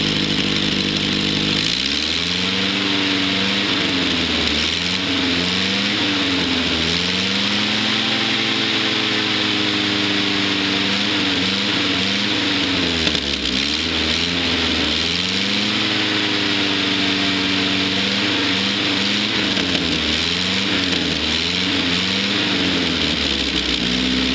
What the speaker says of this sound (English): Nice old Army Jeep sound. It's basically the same engine that was used in the old Willys MBs.